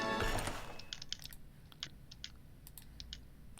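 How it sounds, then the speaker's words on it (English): Computer keyboard typing heard faintly in quick, irregular clicks and keystrokes over a low background hum, with no talking. "What are you typing?"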